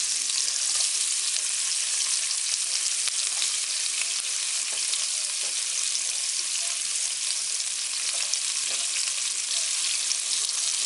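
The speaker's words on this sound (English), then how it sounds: "And in here I'm adding green onions and onions." Green onions and onions frying in a pan for a Haitian wheat dish, a loud, dense, bright sizzle holding steady and close throughout with no pause.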